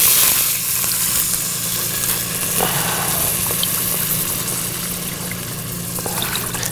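Water poured into a hot pan of pomegranate stuffing, a loud continuous sizzling hiss with bubbling, close up and steady, easing slightly toward the end.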